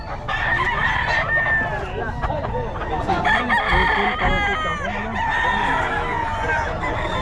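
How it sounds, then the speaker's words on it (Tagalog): A rooster crows loudly and repeatedly up close, amid a busy mix of other clucking fowl and background chatter at a poultry sale in Bocaue. "Ito yung maganda tandang nito."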